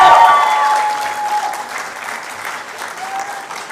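A university convocation ceremony crowd gives a loud, sustained round of applause, dense clapping filling the hall and slowly tapering, with a faint tonal squeal early on.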